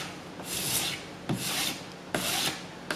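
A hand file is pushed in long forward strokes along the edge of a workpiece for a school electronic game project, making about four rasping, scraping passes, each starting with a small knock, close and clear with no talking.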